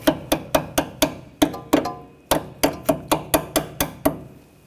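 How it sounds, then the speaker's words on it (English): A hammer taps a brake hose clip into its bracket on a 2014-2020 Nissan Rogue, giving about fifteen sharp metallic taps in a steady rhythm with short pauses, close and clear with no voices. "we'll tap that in place with a hammer"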